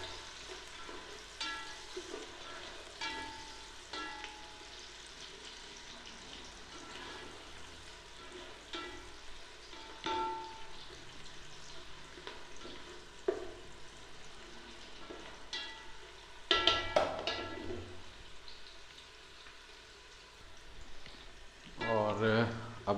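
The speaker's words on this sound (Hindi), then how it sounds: "आधा चम्मच छोटे वाला साबुत ज़ीरा जो है वो डाल देंगे। उसे भी इसी में फ्राई कर लेंगे।" Whole cumin seeds fry in hot oil with a faint, steady crackling sizzle like light rain. Occasional stirring clatters grow louder toward the end, and a voice speaks quietly at times.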